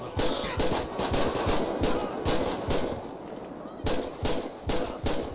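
Repeated bursts of automatic gunfire ring out in a chaotic night shootout in GTA 5 with the LSPDFR police mod, with loud rapid volleys and short gaps between them, and no talk over the shots.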